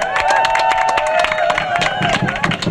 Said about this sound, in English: give Roxanne another round of applause